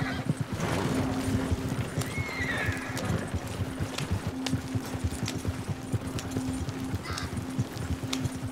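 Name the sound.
horses galloping and neighing in video game Red Dead Redemption 2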